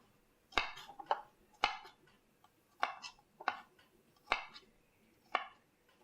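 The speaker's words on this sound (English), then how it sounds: "starting with cutting the garlic and shallot" A knife chops garlic and shallots into big chunks, about eight crisp, separate strikes in loose pairs, close by and fairly quiet with no talking.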